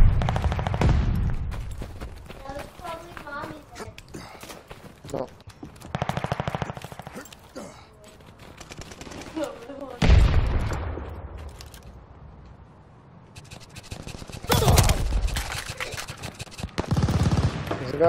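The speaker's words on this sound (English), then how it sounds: "Getting shot through the wall." Rapid gunfire bursts crackle through a Call of Duty: Vanguard multiplayer match, with repeated volleys and loud close shots that come and go across the stretch.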